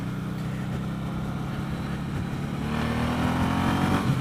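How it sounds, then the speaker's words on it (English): A 2017 Suzuki Boulevard M109 BOSS cruiser motorcycle pulling hard at full throttle in second gear, its deep engine drone rising steadily in pitch under constant wind rush, with no talking. "That's full throttle in second."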